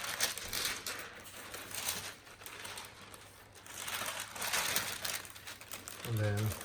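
Wrapping paper crinkles and rustles close by while a Hermes Herbag Zip 39 is unboxed from its orange gift box, a continuous crackling texture with a short voice near the end.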